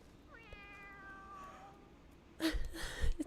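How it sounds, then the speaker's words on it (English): A cat meows with a rising, drawn-out, wavering call, followed by louder, rougher sounds near the end, fairly close and alone without talk. "Its meows are so funny."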